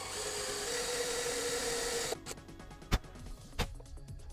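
A steady high-pitched drill whine runs for about two seconds, then stops abruptly, followed by a few sharp clicks and knocks.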